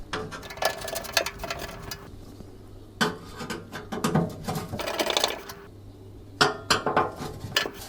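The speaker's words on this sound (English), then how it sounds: "With your final screw in place, go around tightening the rest of the screws." Screws being tightened into the metal back plate of a fan oven, giving a run of scraping, clinking metallic bursts with short pauses between turns, close and moderately loud, with a faint steady hum underneath.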